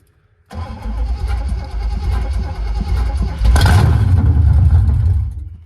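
Big block Chevelle engine cranking briefly and then catching, settling into a loud, close, steady rumble with a rise in revs near the end.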